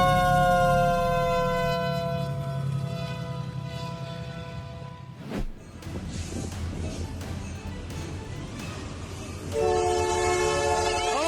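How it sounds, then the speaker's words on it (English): An Amtrak train charges through snow at over 100 mph, its horn blaring loud and sustained, then a sharp whoosh as it rushes past, followed by rumbling cars and the horn again. "At over 100 miles per hour, the Amtrak train charges through the snow"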